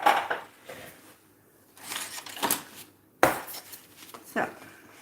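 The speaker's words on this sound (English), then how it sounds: "mixing them together now. I want to make sure that we blend the two parts together." A stick or tool scrapes and clicks around a container as two-part DiamondCote resin is stirred and blended, giving irregular bursts of scraping and knocking with pauses between strokes.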